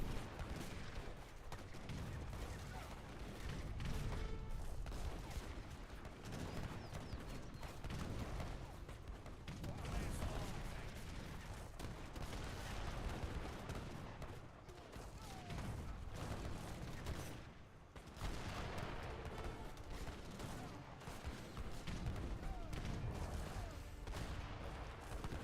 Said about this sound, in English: The artillery doing a pretty good job at blasting some of this